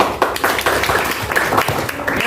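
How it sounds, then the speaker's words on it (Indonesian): A classroom of students claps for a presenting group, loud, close, uneven hand claps with some chatter mixed in. "Ya, tepuk tangan untuk kelompok 1."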